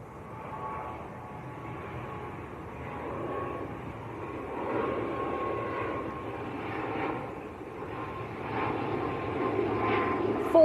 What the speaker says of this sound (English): there is one on finals as well, an ATR 72 from Dublin